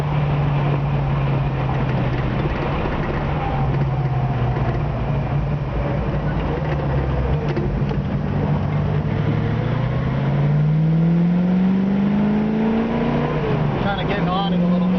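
A 1966 Ford Mustang convertible with a manual transmission pulls hard on the road, its engine note climbing steadily and dropping at the shifts, loud and close over constant wind and road rush.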